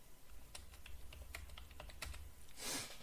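A postal code being typed on a computer keyboard while filling in a customer registration form: quiet, irregular key clicks in a short run, faint and close, with a soft rustle at the end.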